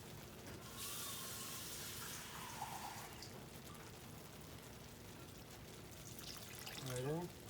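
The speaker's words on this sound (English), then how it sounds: "And add just a little bit of water to thin it out." A little water is poured into peach cobbler batter, a soft splashing pour heard close and fairly faint against a quiet room, with mixing noises around it.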